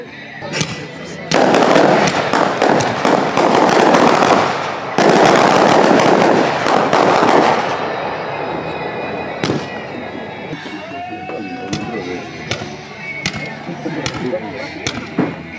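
Daytime fireworks at a pyrotechnics presentation fire in rapid crackling volleys of loud bangs, then give way to scattered sharp pops and distant reports, with people talking over the quieter later stretch.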